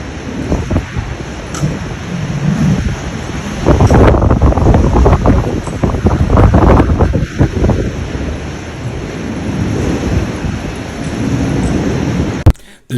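Strong ocean wind in Cape Town roars and buffets the microphone in loud, surging gusts, with heavy rumbling blasts that rise and fall throughout.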